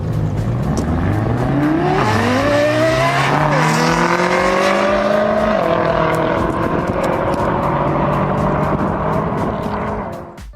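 A Lexus LFA's high-revving engine screams loudly and continuously, its pitch sweeping up and down through rapid revs as it passes close by, the sound tailing off only at the very end.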